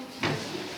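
A large wooden drawer slides open in an old house in the Paranapiacaba village, giving a brief scraping rumble, close and moderately loud against a quiet room.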